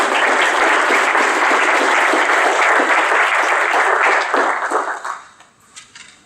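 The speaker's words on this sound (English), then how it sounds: "Let's give them a round of applause." Loud, sustained audience applause at a city's State of the City address, dense clapping that holds strong before thinning out and fading to a few scattered claps at the end.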